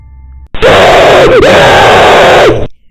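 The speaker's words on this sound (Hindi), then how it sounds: "आदमखोर चीखें मार रहा है" A man-eater monster in a horror cartoon lets out a long, loud, wavering scream lasting about two seconds, alone and harsh.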